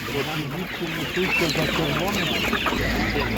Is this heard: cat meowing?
no